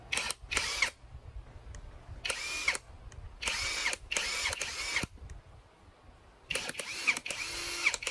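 Cordless power drill tested for torque and auto stop, running in several loud close bursts of whirring motor separated by short pauses, with a clicking trigger between runs.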